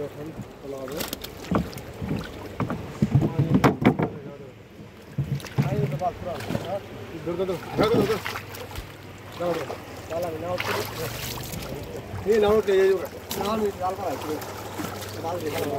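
A rowboat moves through water on Hakaluki Haor in Sylhet with splashing and knocking against the hull, wind buffeting the microphone, while people talk over it.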